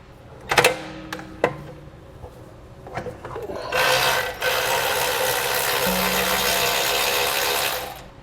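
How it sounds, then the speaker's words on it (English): A ratchet backs out the bolt securing an emergency brake line bracket under a 2022 Toyota: a few sharp clicks and taps at first, then a steady, loud ratcheting buzz for several seconds up close. "Now we'll remove the bolt that's holding in our emergency brake line."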